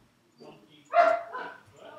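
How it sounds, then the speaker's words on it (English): A pet dog barks a few times in the background of a room, short moderately loud yaps over a faint murmur of voice and game sounds. "My dog is in the background."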